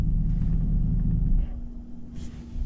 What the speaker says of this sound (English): I think you can hear that my truck shut off, which is annoying to me.